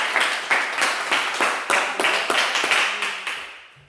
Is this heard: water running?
no